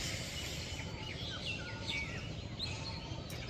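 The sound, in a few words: birds singing in the village morning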